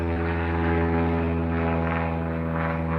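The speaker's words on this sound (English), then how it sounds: "It's a seaplane." A seaplane fitted with skis flies overhead, its propeller engine a loud, steady drone with a strong, even buzz that holds throughout.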